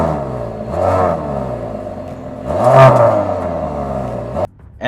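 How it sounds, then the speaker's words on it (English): Mercedes-AMG GLE 53 SUV starting up: a loud, close engine bark with rising and settling revs, a second sharp rev blip, then a drop to a quieter idle before cutting off; no talking. "listen to the way this sounds once you fire up the engine"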